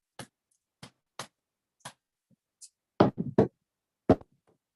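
Several single sharp hand drum hits at first, then louder paired thumps in a heartbeat rhythm, close up with a soft voice-like sound between beats.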